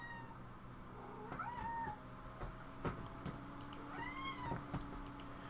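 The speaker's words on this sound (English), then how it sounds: "That's why I've been meowed at." An indoor cat meows twice, the two drawn-out calls a few seconds apart and fairly close, set against a constant background hum and a few soft knocks.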